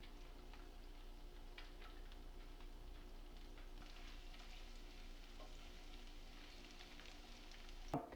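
Garlic sautés in olive oil in a pan on a home stove, a soft, steady low sizzle with occasional faint clicks and a brief louder clatter at the end.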